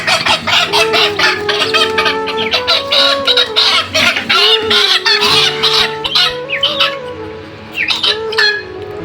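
Several chickens squawk and cluck loudly and agitatedly right after being caught, with repeated close, overlapping cries and flurries of noise.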